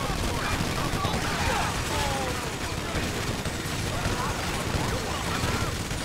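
Gunfire rages in a GTA 5 shootout with a modded SWAT team, a dense, continuous roar of overlapping shots and bursts that stays loud and unbroken throughout.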